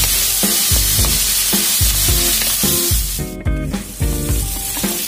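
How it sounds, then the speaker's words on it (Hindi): Cashews and almonds fry in a pan for a Mughlai chicken Changezi, a steady loud sizzle under repeated scraping stirs in a regular rhythm, close up with no talking. "फिर से अच्छे से इसको फ्राई करेंगे।"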